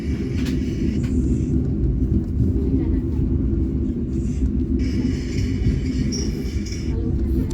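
Onboard the KA Sancaka Utara passenger train passing the Solo Balapan rail depot and locomotive sub-depot: a constant deep rolling rumble fills the cabin, with a faint hiss rising partway through.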